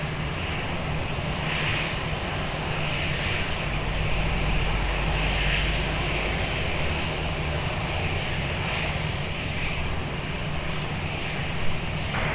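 Ryanair airliner landing on runway 20 at Lisbon airport, a continuous loud roar of jet engines with a steady broadband rumble and faint pulsing tones, heard from close by.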